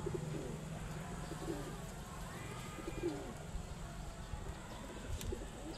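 A flock of pigeons kept by a Filipino owner coo softly at a distance, in a few low, repeated calls over a quiet outdoor background.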